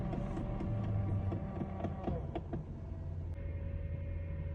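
A Lexus LS 430 with about 143,000 miles idles high on a cold-morning start, its faint, steady engine hum carrying a thin whine that continues throughout.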